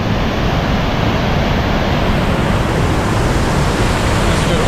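A waterfall at the Grand Canyon of the Yellowstone thunders as a loud, dense, unbroken roar of rushing water, steady and close, with no voices heard.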